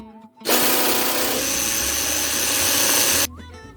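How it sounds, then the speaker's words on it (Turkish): An electric mixer whisks eggs and sugar to a creamy consistency, switching on abruptly with a loud whirring buzz that holds steady for about three seconds before cutting off. "Şimdi iyice krema kıvamına gelene kadar çırpacağım."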